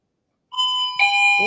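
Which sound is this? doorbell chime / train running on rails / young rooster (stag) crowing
doorbell chime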